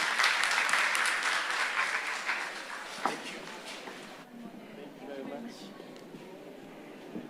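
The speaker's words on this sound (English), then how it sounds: "Let's give him a big round of applause" A big round of applause from the audience at an opening ceremony, loud sustained clapping that tapers off over several seconds into murmuring room noise and faint voices.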